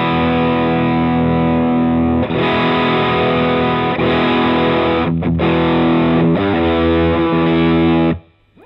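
An electric guitar plays through a Joyo Vintage Overdrive pedal, a Tube Screamer clone, with no boost, producing loud, sustained distorted chords that ring on and cut off sharply at the end.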